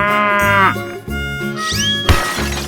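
A cartoon cow in a 3D animal slide video game gives loud, close, drawn-out moos in repeated calls, with a bright shattering game effect near the end.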